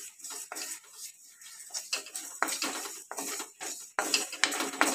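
Spices stirred and fried in a hot pan for bamboo shoot pickle, repeated scraping and clinking strokes of a spoon against the pan with a faint sizzle between them, close and rhythmic.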